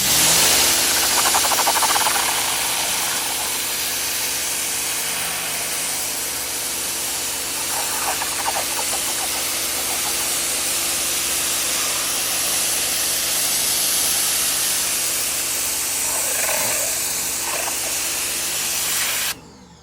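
A pressure washer sprays baseball pants, a loud steady hissing water jet with an engine droning underneath, running continuously for about twenty seconds before cutting off.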